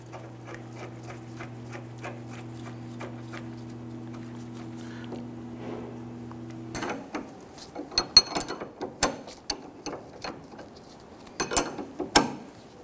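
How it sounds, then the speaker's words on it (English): A nut being tightened on the front lower rearward control arm of a 2011-2023 Dodge Charger: a steady humming drone first, then a quick series of sharp metallic ratcheting clicks and clanks up close. "Install the nut. If you want to, just go ahead and tighten it down right now."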